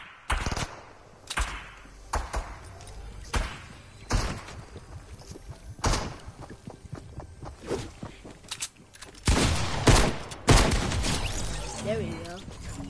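Video game gunfire: scattered bursts and single sharp shots, some loud and near, others fainter, spread irregularly through the scene, with the player talking at times.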